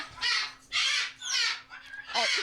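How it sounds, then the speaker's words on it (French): Parrots squawk close by in four or five harsh, grating calls, evenly spaced with short gaps between them, and no talking. "on a des perroquets ici sur place qui manquent d'attention en ce moment"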